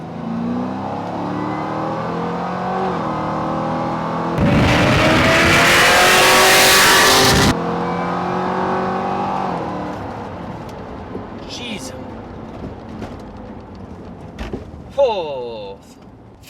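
A 600-wheel-horsepower Cadillac engine runs near full throttle with its exhaust cutouts open: a steady, close engine drone swells into a loud, harsh roar for about three seconds mid-clip, then settles back to a lower rumble.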